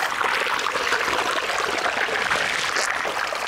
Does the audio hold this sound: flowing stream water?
yes